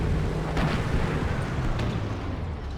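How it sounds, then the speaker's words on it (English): Heavy tank cannons firing in the World of Tanks video game: a couple of booming blasts rise out of a dense, continuous rumble of battle noise. "I'm gonna record this so you can watch the vid card so you can hear the guns"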